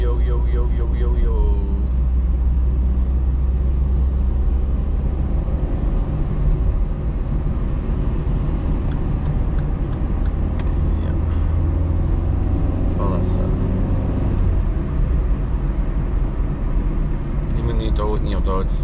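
A car's engine rumbles steadily from inside the cabin while driving, a loud, constant low drone with road noise and no clear breaks.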